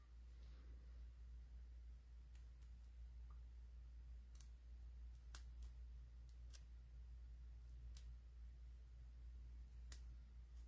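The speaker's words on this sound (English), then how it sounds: "I think that I need to trim a little bit here as well." Scissors trim paper for a stamped handmade card in short, quiet snips and clicks scattered over a low steady hum, close but faint.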